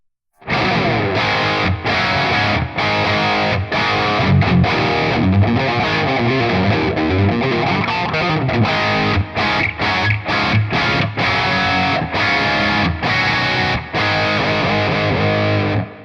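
Heavily distorted electric guitar plays loud chugging riffs through a Marshall Vintage Modern amp and 4x12 cabinet with G12 EVH speakers, with rhythmic bursts and brief stops between phrases.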